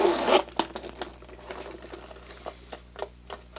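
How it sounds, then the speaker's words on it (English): A zipper on the front of a designer handbag is drawn open in short ratcheting bursts, close and fairly quiet, with a few small clicks and rustles between pulls and no talking. "So what you're going to do, you unzip it like this."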